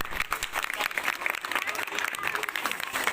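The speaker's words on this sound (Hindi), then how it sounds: "बच्चे इस बात के लिए ताली बजाए अपने प्रधान जी।" Schoolchildren clap together at a Republic Day school gathering, a dense, steady burst of applause from a crowd filling the whole stretch.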